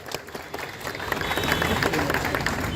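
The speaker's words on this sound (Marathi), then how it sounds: "पालक सन्माननीय दादासाहेब भुसे यांच्यासाठी आपण पहिले डोळ्यात टाळ्या वाजवायच्या आहे." An audience at a Shiv Sena campaign office inauguration breaks into applause that swells after a second and holds steady, moderately loud, with some crowd murmur.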